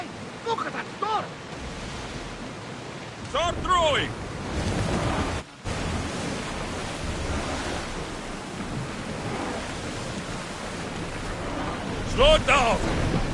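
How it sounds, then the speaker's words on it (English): Stormy weather in the Assassin's Creed Odyssey game, a continuous roar of wind, rain and surf-like noise under intermittent shouting voices, with a brief dropout midway. "Look at that storm."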